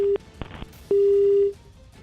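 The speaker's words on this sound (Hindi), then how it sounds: "सुरेंद्र सिंह का फोन कट गया है और अजीत हमारे साथ लगातार बने हुए हैं।" Two short tone beeps on a disconnected phone line, followed by one longer steady tone, clear and alone with no voices.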